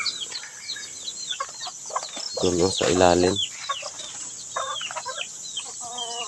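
Hens clucking and cackling in bursts around a mountain farmyard, with someone speaking Tagalog nearby and a louder squawking flurry in the middle.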